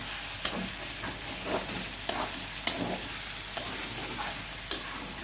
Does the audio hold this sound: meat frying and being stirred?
yes